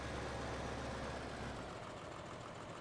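A 160 HP Same tractor idles in Farming Simulator 2015, a steady, dense low engine drone that holds constant and fairly loud throughout with no speech.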